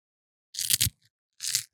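Crunchy chewing sounds right at the microphone come in two short bursts of bites in otherwise near-silence, sharp and close, with no voices.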